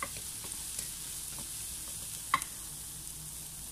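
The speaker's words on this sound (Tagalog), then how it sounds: "Igisahin natin ito ng isang minuto hanggang sa lumabas ang aroma ng ating" Chopped onions and ginger sizzle softly in a hot pan, a faint steady frying hiss with occasional light stirring scrapes and one sharp clink, no voices.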